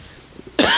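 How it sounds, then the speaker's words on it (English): A single sharp cough from an ill lecturer bursts out near the end, loud and close, after a stretch of quiet room tone. "I'm a bit ill, so I'll be coughing a lot"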